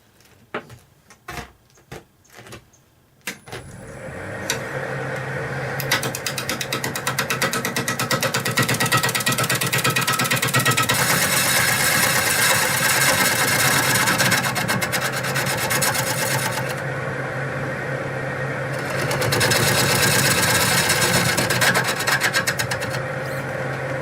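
A wood lathe spins a steel wool bowl blank while a tool cuts shavings: a continuous loud rasping, whirring scrape that swells and eases as the cut moves, following a few brief knocks at the start.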